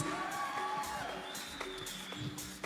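Audience at a film association event cheering and whooping for Mrs. Dorothy Kingstone, a steady crowd noise with scattered shouts, moderately loud and continuous throughout.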